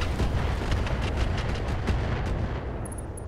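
Rapid weapons fire from BattleTech mechs in the Roguetech mod, a dense barrage of sharp repeated shots and booms running continuously, loud and close, with no talk over it.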